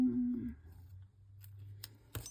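Scissors snip through thin paper scrap in a quiet room, a couple of crisp close cuts near the end after a low hum, faint and brief.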